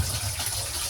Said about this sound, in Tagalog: Lagyan natin na siya ng ating water.